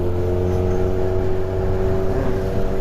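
A Honda CBF 500 motorcycle rides alongside on the road, its engine a steady, loud whir and drone that holds close and constant, with no voices over it.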